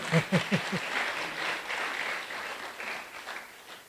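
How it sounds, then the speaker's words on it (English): Audience applause at a public lecture on mental health leadership, a brief moderate burst of clapping that swells and fades over a few seconds, with a voice briefly audible at the start. "Can we give them a round of applause?"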